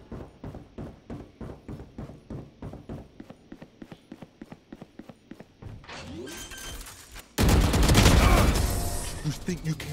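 Gunfire in the shooter game Valorant: a rapid run of evenly spaced sharp shots for several seconds, then a brief scuffle and a sudden loud burst of heavy firing and impacts that stays dense to the end.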